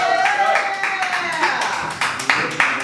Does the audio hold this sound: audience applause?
yes